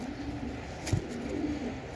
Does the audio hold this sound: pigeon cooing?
yes